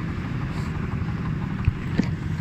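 A motorbike ridden through fog, its engine a steady low rumble mixed with wind buffeting, with a couple of brief knocks near the end and no talking.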